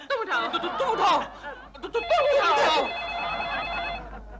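An old-fashioned telephone bell rings repeatedly in a flat during a comedy scene, a steady ringing tone heard under people talking and some chuckling.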